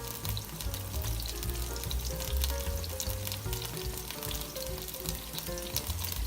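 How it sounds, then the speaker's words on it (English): Frozen peas fry in a pot for a one-pot weeknight meal, giving a steady, close sizzle and crackle that runs without a break under a low background hum. "you need to allow this to cook just for a second so that these frozen peas can de-thaw a little"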